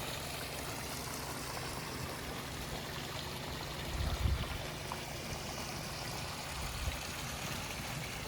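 Irrigation water pushed down furrowed crop rows in a mid-August field, a steady broadband rush of flowing water with a low rumble swelling briefly midway, no voices.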